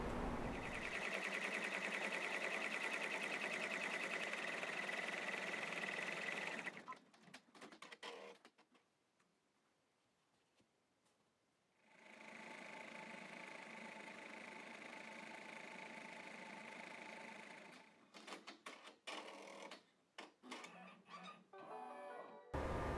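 Embroidery machine stitching a design, a steady whirring mechanical buzz that runs for several seconds, pauses into near silence, resumes, then breaks into intermittent clicks and stops.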